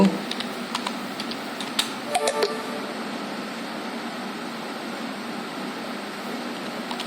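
Keystrokes on a computer keyboard while searching for Windows Update in Windows settings, a few faint scattered clicks over a steady room hum and background noise, with light voice presence.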